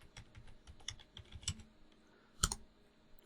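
Keystrokes on a computer keyboard while configuring a Juniper vSRX router, an irregular run of close, light clicks with a sharper burst near the end, no voices.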